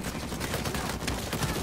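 Dense, continuous burst of blind-fire gunfire from a sci-fi shooter game, rapid overlapping shots filling the whole stretch at steady loudness with no voices.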